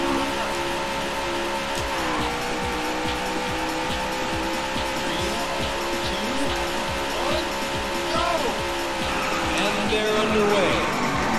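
The Daytona USA arcade machine plays race car engines in a continuous loud, droning whine, with tire squeal and skidding rising and falling over it and a few engine pitch changes along the way.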